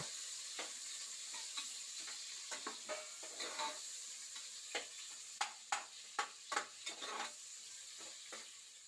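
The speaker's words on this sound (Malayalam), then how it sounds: "അരിഞ്ഞു വെച്ച സവാള ഇട്ട് കൊടുക്കുന്നുണ്ട് പിന്നെ ഇഞ്ചി വെളുത്തുള്ളി പേസ്റ്റ് അത് ഇട്ടിട്ട് നന്നായിട്ടൊന്ന് മൂപ്പിച്ചെടുക്കാം" Cashews, chopped onion and ginger-garlic paste frying in a pan, a steady sizzle punctuated by sharp stirring clinks and scrapes that grow more frequent toward the end, with no talking.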